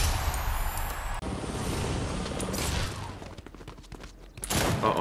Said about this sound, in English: Uh-oh, I'm being shot already.